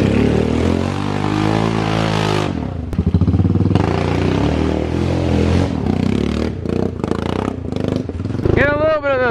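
A loud four-wheeler engine, exhaust underwater, roars and revs continuously through splashing and churning, with the pitch rising and falling as it pushes through deep water.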